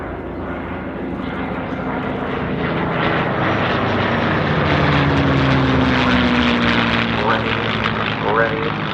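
A P-50 aircraft engine roars steadily during a power check at an air show, a loud, continuous propeller drone that swells slightly and holds close by for the whole stretch.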